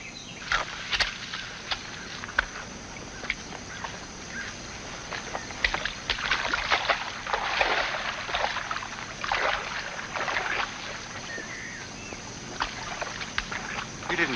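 Water sloshing and splashing as a rowing boat moves, with irregular oar strokes over a steady background hum.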